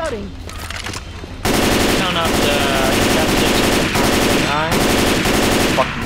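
Rapid automatic gunfire from the zombie shooter Left 4 Dead 2 bursts in loud and sustained after a quieter opening, with brief pauses between volleys and faint voices beneath.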